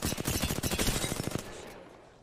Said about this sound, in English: I'm getting shot by another squad.